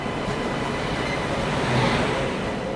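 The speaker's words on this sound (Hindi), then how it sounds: "मालगाड़ी डिपार्चर लेते हुए" A goods train hauled by a WG9 electric locomotive pulls out past a station toward Jhansi, its rail wagons rolling in a steady, continuous rumble with faint clickety-clack, close and moderately loud, no voices.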